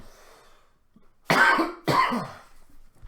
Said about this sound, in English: Let me cough, jeez.